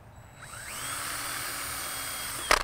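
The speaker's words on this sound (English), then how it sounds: "we're basically going to just drill some pilot holes." A power drill spins up and whines steadily while boring pilot holes for an exterior shutter pintle, close and fairly loud, ending with a brief clatter.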